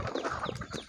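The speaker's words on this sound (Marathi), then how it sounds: "आपल्या कोंबड्या पण खुरड्याकडे येत आहे।" Farmyard chickens heading back to their coop at dusk give a brief burst of close, overlapping clucks, with no voices present.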